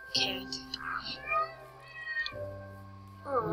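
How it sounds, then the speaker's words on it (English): A Minecraft cat meows repeatedly, several drawn-out tonal mews with rising and falling pitch, close and clear with brief gaps between them. "Hello, cat"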